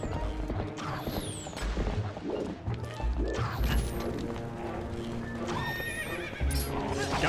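Horse galloping with clip-clop hoofbeats and repeated neighs in the video game Zelda: Twilight Princess, loud and close over about seven seconds, with game effects and music mixed in.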